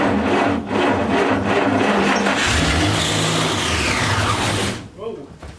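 The engine of a 1939 Buick cranks as fuel is drawn up to the carburetor, a loud, rough mechanical churning with a steady pulse that runs for several seconds and then cuts off abruptly.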